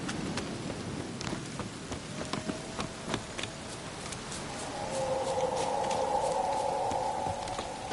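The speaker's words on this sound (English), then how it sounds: "Looks like rain." Rain falls in The Witcher 3, a steady patter with scattered drops and ticks, while a buzzing hum joins partway through.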